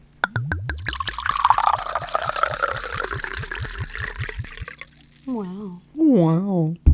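A drink is poured into a glass, starting with quick glugging pulses that trail into a steady trickle. A voice hums or sings briefly near the end.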